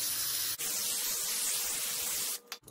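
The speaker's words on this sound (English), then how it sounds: "I'm just gonna take some brake clean" Brake cleaner hisses from an aerosol can onto a John Deere aerator spreader chain in close, loud bursts, one short break early, then a long continuous spray trailing off.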